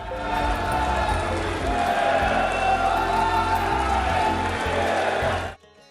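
Thunderous applause and cheering greet the Prime Minister at the inauguration of India's new Parliament building on 28 May 2023. A packed hall claps loudly and steadily for several seconds, then the sound cuts off abruptly.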